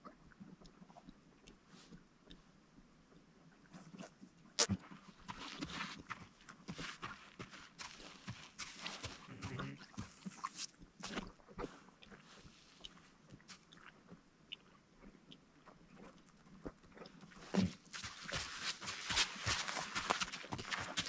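A few wild horses walking over dry desert ground near a repaired spring at dusk, faint hoof thuds and soft clopping in an uneven rhythm, with occasional chewing and rustling nearby.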